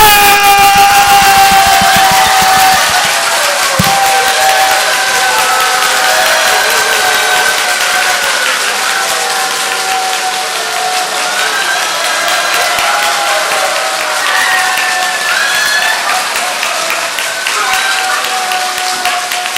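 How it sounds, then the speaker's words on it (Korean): A church congregation at a laughter-therapy gathering claps hands rapidly and together, a loud, dense, sustained patter of applause running throughout, with some voices mixed in. "다 같이 옆 사람 얼굴을 보면서 손뼉 발사!"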